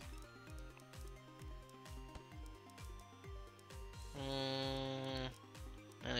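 Sheep bleat in the video game Just King, several drawn-out cries repeating over a steady game soundtrack with a rhythmic beat, with no talking.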